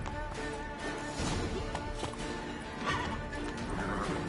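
In The Witcher 3: Wild Hunt's Blood and Wine expansion, a horse gallops with rapid, driving hoofbeats, and a neigh comes through close up within the short burst.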